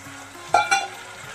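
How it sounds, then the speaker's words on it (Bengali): Spice paste of chili powder, turmeric and a splash of water frying in a pan, a low sizzle punctuated by two sharp, close scrapes of a spatula. "এখন ভালো করে মশলাটা কষিয়ে নেব।"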